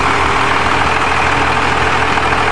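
A 1996 Dodge diesel pickup with 280,000 miles idles on a cold day to warm up, a steady, loud, close rumble with a rough low-frequency chug and no one speaking over it.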